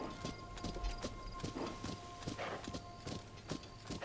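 Lynel hoofbeats in Zelda: Tears of the Kingdom, a steady clip-clop of hooves trotting at a regular rhythm, fairly faint under a low background hum.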